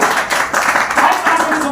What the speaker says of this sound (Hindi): यूटेक के लिए जोरदार तालियां